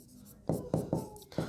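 Chalk or marker strokes on a classroom board during a Hindi grammar lesson, four short scratchy bursts in an uneven rhythm, close and moderately loud with no talk over them.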